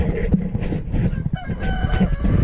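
Chickens on a snowy homestead cluck while a rooster crows, close and loud, with overlapping calls repeating across the whole stretch.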